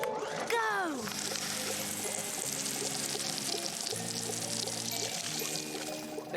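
Water pours steadily onto a clam plant in the Lunar Jim cartoon, a continuous gushing stream that plays under a bouncy musical score for several seconds.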